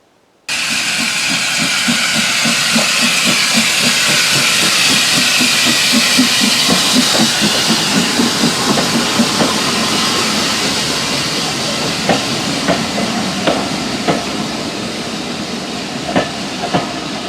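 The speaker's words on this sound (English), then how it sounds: "So that steam locomotive that just passed through here" A steam locomotive rolls through Eardington Station on the Severn Valley Railway during a steam gala, with loud continuous hissing steam and rhythmic chuffing, wheels clicking over rail joints as it moves through.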